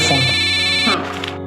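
A mobile phone rings with a steady electronic tone for about a second, then cuts off into softer noise.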